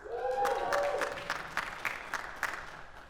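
An audience at a live podcast taping at SXSW applauds, the claps spreading from a brief voice into scattered, distinct hand claps that grow sparser and fade.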